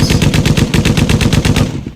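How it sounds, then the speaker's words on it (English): A loud, rapid burst of automatic gunfire used as a sound effect, about fifteen evenly spaced shots in under two seconds, close and harsh, then cutting off abruptly. "You're not used to gunshots"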